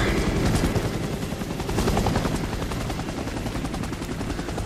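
A helicopter in the video game Operation Raccoon City gives a steady, loud rotor roar throughout, with rapid gunfire-like bursts mixed into the din.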